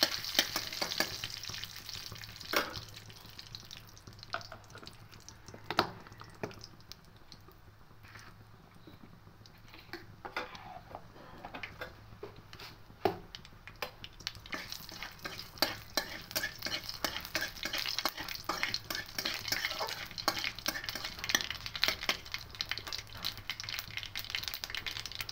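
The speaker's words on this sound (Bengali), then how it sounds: "এবার একটু হালকা লাল করে ভেজে নেব, ফোড়নের গন্ধটা আসা পর্যন্ত একটু ভেজে নেব" Black mustard seeds and four dried red chillies frying in oil for a tempering, a soft continuous sizzle with dense tiny crackles and pops, plus occasional stirring scrapes, close and fairly quiet.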